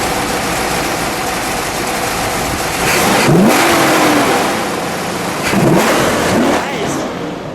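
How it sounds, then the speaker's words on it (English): A 1970 Dodge Charger R/T's 426 Hemi V8 idles loudly up close, then gives two sharp throttle blips that rise and fall in pitch before each drops back to a rumbling idle. "and then we'll give it a rev"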